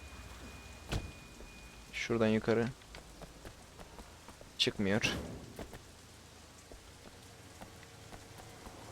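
Steady rain falls in the open-world game Sleeping Dogs, a continuous soft patter running through the whole stretch while people talk over it.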